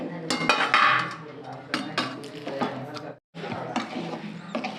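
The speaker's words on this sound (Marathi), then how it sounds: "असंच चमचाने एक एक चमचा टाकणार आहे" A spoon clinks and taps against a plate close up while warm sesame laddu filling is dropped onto it spoonful by spoonful, giving repeated bright metallic knocks amid kitchen handling.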